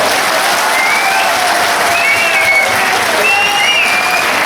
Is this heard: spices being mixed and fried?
no